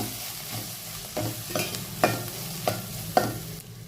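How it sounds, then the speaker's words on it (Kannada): Grated fresh coconut being stirred into frying fish sambar masala for a village-style fish saaru; a spoon scrapes the pan in repeated strokes over a steady close sizzle, with no talking. "ಈಗ ಕೊಬ್ಬರಿ ಹಾಕಿದ್ಮೇಲೆ ಮಿಕ್ಸ್ ಮಾಡ್ಕೊಂಡಾಗಿದೆ"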